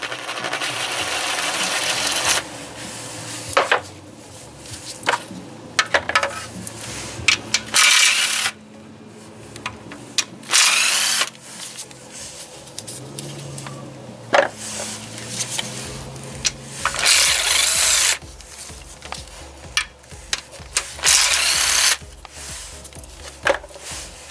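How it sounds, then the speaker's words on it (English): A socket wrench with a 10mm socket removes the oil pan bolts on a Kia Forte/Soul 1.8 or 2.0 Nu engine, giving repeated bursts of close ratcheting clicks broken by metallic clanks and pauses. "All the bolts will need to be removed with a 10mm socket now, the ones that surround the oil pan"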